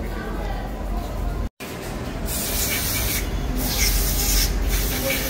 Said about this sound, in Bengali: ভালো করে ব্রাশ দিয়ে ঘষে ময়লা আমরা উঠে তুলে বের করবো